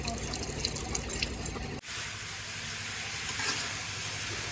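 Cauliflower fries in a home kitchen pan with a steady, close sizzle. Partway through it cuts briefly, then the frying carries on evenly with faint clinks.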